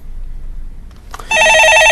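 A telephone rings for an incoming call on a stock-market call-in show, a loud, close electronic trill that bursts in after a quiet room and repeats in rapid, even pulses until the end.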